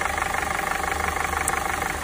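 A VW Mk7 GTI engine with a failing camshaft and spool valve runs with a steady, fast rhythmic ticking knock over a constant mid-pitched hum, heard up close without speech.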